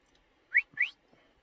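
Two short rising shepherd's whistles, the standard 'left' command for a working sheepdog, blown in quick succession with a brief gap, clear and alone against a quiet background.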